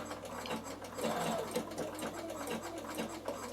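A Bernina sewing machine stitches wool applique, its motor whirring and needle clattering in a steady, close, continuous rhythm with a brief louder surge partway through.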